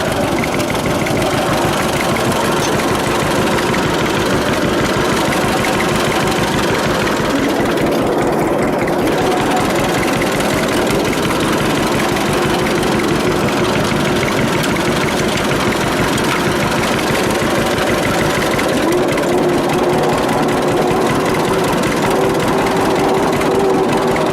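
A 1946 John Deere AR tractor engine running, a loud close low chugging idle with steady knocking rhythm, unbroken throughout with no talking.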